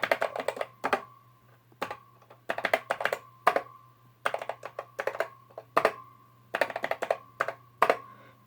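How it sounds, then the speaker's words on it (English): Bursts of quick key clicks as numbers are typed on a Macintosh Plus keyboard, coming in short clustered runs separated by brief pauses over a low steady hum, close and crisp. "You type in your numbers in the box."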